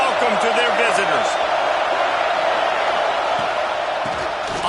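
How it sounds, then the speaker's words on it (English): A football stadium crowd roars in a loud, sustained wall of cheering that fills the whole stretch, with a commentator's voice talking over it. "This crowd bringing an ear-splitting welcome to their visitors"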